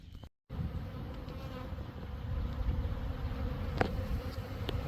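Package honey bees buzz and fly around in a dense, continuous drone, close and steady, with individual bees passing near and no talking.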